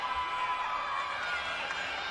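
Home crowd at a Michigan State women's gymnastics meet cheering a gymnast, a steady, fairly distant arena roar of voices and whoops held at an even level throughout.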